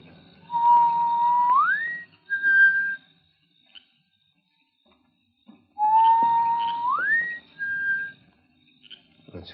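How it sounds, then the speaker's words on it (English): A person whistles a signal twice, each a held note sliding upward then a short higher tone, clear and close with quiet pauses between. "Nancy will hear my whistle"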